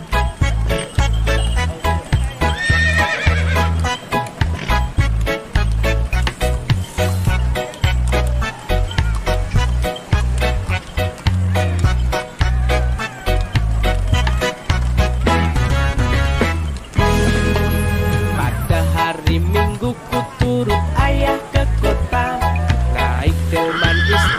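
A carriage horse at a morning market whinnies while its hooves clip-clop steadily and loudly over a dense backdrop of music, with a faint jingle of harness.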